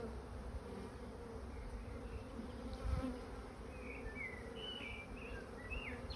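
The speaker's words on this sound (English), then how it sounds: "Get these bees out of the way." Honeybees buzz steadily around an open hive during inspection, a low continuous drone with a few brief higher whines from bees flying close by.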